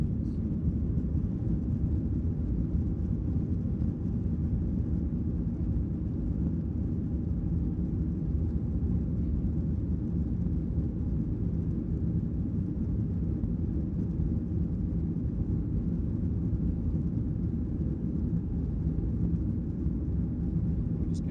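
Virgin Australia airliner accelerating down the runway at Brisbane on takeoff, heard from inside the cabin as a steady, loud low roar of engines and rumble that holds evenly throughout with no talking.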